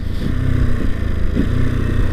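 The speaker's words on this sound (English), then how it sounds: "The engine rumbles" A 2021 Ducati Monster 950 motorcycle engine rumbles steadily at low revs, a deep, close, continuous throb with slight fluctuations and no voices.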